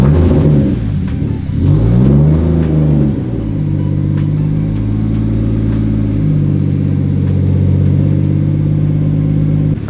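A BMW engine, heard from close by, rises and falls through a few quick revs before settling into a steady, loud idle rumble, with no voices over it.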